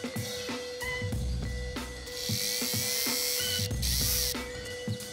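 A power drill whirs in repeated short bursts with ratcheting, mechanical clicks between them, fairly close and steady, with no voices.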